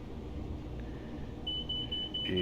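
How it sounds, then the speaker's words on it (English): Inside a Class 92 electric locomotive cab in Train Simulator Classic, hauling freight from Kingsmoor toward Shap, a thin speed-set alarm tone starts partway through and holds steadily, quiet above a low rumbling cab drone. "that alarm does seem to have something to do with the speed set"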